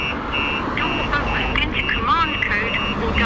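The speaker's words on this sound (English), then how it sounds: "So alarm's gone off" A StarLine S9 smart alarm fitted to a 2014 BMW M5 sounds off with warbling, sweeping siren tones over steady background noise, heard close and continuous throughout.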